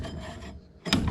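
A saw cuts through a clamped exhaust pipe for a custom 2-into-1 exhaust, heard as a close, loud rasping stroke, a short pause, then another harsh stroke.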